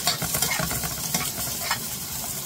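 Chopped onion and ginger sautéing in a hot pan with steady loud sizzling, broken by short scraping stirs.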